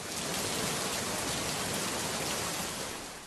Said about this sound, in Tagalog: Martes, malakas ang ulan sa labas.